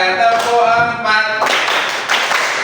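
Hand clapping in a classroom clapping game, sharp rhythmic claps in short bursts close by, with a voice talking over part of it.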